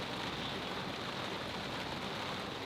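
Rain falls on a boat, a soft, even, steady hiss of drops spread across the surface, fairly quiet and continuous with nothing else standing out.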